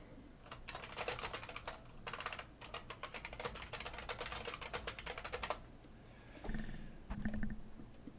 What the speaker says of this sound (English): And you guys get to hear my new old keyboard.